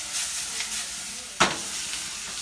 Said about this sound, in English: He's doing stir fry right now.